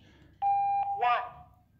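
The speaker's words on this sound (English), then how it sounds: "The constant beep will indicate that there is no channel programmed." A QRadio E66 handheld radio emits a steady electronic beep indicating no programmed channel. The single tone lasts under half a second and is followed by a brief, fainter sound.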